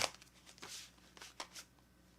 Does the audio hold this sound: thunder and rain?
no